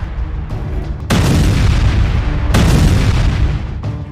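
Heavy explosions from Israeli strikes in southern Lebanon: a rumbling backdrop breaks into two loud, broad booming blasts about a second and a half apart, each rolling on and slowly fading.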